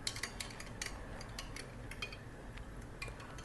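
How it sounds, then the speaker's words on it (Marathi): Spoon stirring sugar into coriander-stalk sharbat, light metallic clinks and taps against a glass or vessel at irregular intervals, quiet and close, without talk. "आणि यात तुम्ही साधारण 1 चमचाभर साखर घाला आणि हे तुम्ही हलवायचं आहे"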